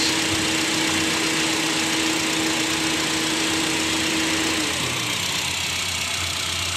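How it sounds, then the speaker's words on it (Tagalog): A 2010 Honda City engine idles steadily after an oil change with an even, continuous hum and a faint high whine that fades out near the end, no voices. "So yan po, maanda lang ating makina."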